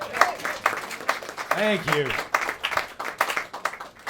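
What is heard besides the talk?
audience applause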